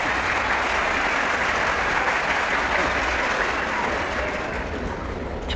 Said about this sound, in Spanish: No, insisto, aplausos primero.